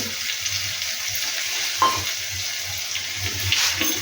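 Tomato masala with ginger and chilli fries in a pan, a steady bright sizzle running the whole time with occasional soft stirring scrapes, close and fairly loud with no voices.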